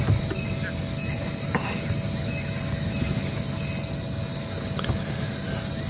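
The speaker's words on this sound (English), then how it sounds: "I thought, well, that can't be a cicada, it must be a cricket" A large cricket chirps steadily on the ground at a game reserve during an evening safari drive, a continuous high, shrill trill held at an even loudness throughout with faint low rumble beneath.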